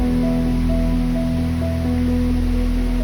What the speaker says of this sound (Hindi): हल्की हल्की बारिश अब वापस शुरू हुई थी